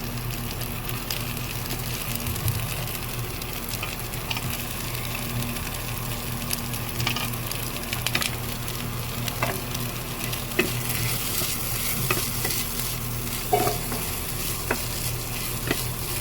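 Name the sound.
stir-frying carrots and capsicum in a pan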